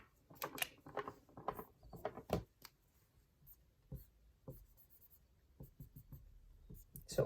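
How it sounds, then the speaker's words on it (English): A pen or marker writing out a chemical structure, bursts of quick scratchy strokes and taps at close range, busy at first and then sparser after a quiet gap, with no talking. "I'm just gonna write the whole thing."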